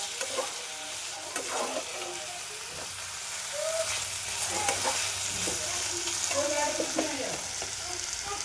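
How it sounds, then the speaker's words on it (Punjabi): French fries sizzle and crackle in a little ghee, steady frying noise with occasional stirring scrapes, close and moderately loud, no one talking. "ਇਹ ਸਿੱਧਾ ਆਪਾਂ ਥੋੜੇ ਜਿਹਾ ਘਿਓ ਚ ਤਰਨੇ ਨੇ"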